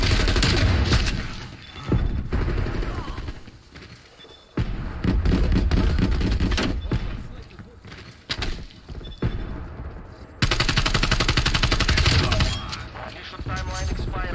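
A frag grenade blast and gunfire in Black Ops Cold War: heavy, booming bursts and rapid shots come in dense loud waves broken by short lulls, with voices over the top.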